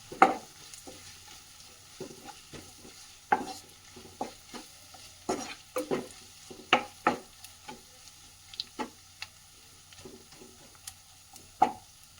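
A spoon scrapes and knocks through a spice masala for mushroom masala, with Kashmiri chilli powder and salt in a pan. The strokes are quiet, irregular and close, with a faint sizzle underneath and no talking.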